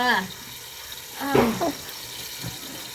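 Water is poured into a cooking pot for semolina upma, a splashing fill with brief surges, while people talk over it.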